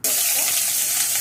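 Chopped onions dropped into hot oil in a pan while cooking a spicy chicken gravy, giving a sudden loud, steady hiss of frying that starts abruptly and holds at a constant level throughout.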